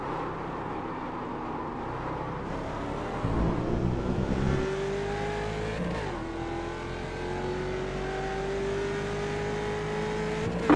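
A Ford Mustang FR500S race car laps Laguna Seca. Its engine drones loudly from on board, with gear-by-gear pitch climbs and a sharp shift about midway, and it runs continuously with no talk.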